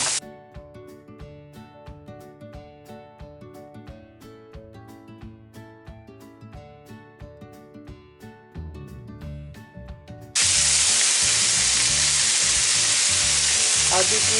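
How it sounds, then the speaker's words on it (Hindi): Chicken mince frying in oil in a pan, with a sharp burst of sizzling as chilli and spices go in near the end; earlier, a run of rhythmic stirring and tapping sounds, close and loud, with no talk. "और इसमें मैंने थोड़ा सा ऑयल डाला है। मिर्चें भी डाल देती हूँ कीमे में।"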